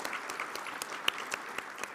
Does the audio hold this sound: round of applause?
yes